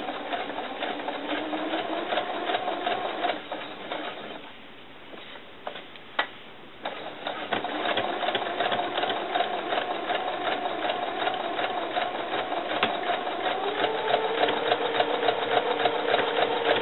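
A sewing machine stitches two layers of fabric on a doll cover-up, a steady, close whirring chatter with rapid rhythmic ticking that briefly slows and stops midway, then resumes, with no talk.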